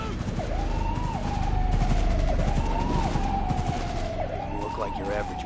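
Rapid automatic gunfire crackles under a wailing police siren in a Cyberpunk 2077 street confrontation, steady and dense throughout, with voices shouting over the din.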